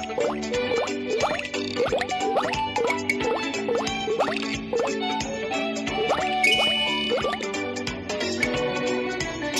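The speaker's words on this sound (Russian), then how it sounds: "Намыливаем машину автомобильным шампунем." A cartoon sound effect of a car being lathered with car shampoo in an animated children's car-wash scene: a loud, continuous stream of playful bubbly plops, drips and squelchy rising sweeps, heard on its own.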